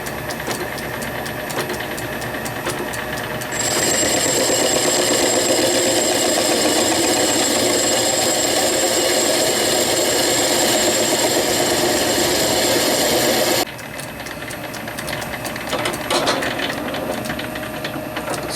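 A foot-powered treadle lathe faces a workpiece, giving a steady mechanical whirring and cutting hum that grows louder and brighter for about ten seconds in the middle, then drops back to a lower running drone, with no voices.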